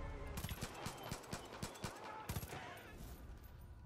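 Gunfire in the video game Far Cry 5, a weapon set to burst mode, comes as quick rattling volleys of short shots over a steady background roar, fairly quiet overall.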